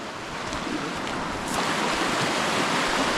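Creek water rushing steadily in remote Alaska, a broad continuous wash that grows slightly louder partway through as the stream comes closer, with no voices.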